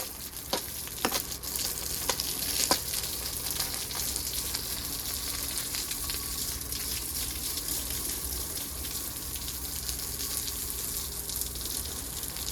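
Water splashes and sprays steadily across a home courtyard floor, a continuous hissing wash with a few sharper spatters early on and no voices.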